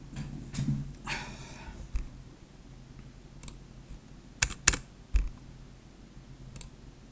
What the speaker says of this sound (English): We will be typing this command now.